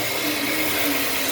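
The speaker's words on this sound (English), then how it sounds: "it's all hooked up to our dust collection system that goes up through here into some giant HEPA filters that filter the air" A holster factory's dust collection system, ducted up to large HEPA filters, roars in a loud, continuous broadband rush across the whole short stretch with no other sound.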